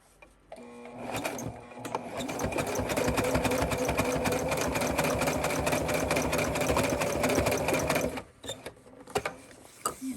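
A sewing machine stitches closed a hole in a garment lining, running in a steady, continuous whir for about seven seconds, then stopping with a few faint clicks.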